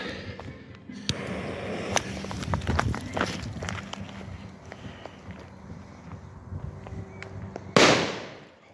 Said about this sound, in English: that was louder than some 2-gram bangers or firecrackers had in the past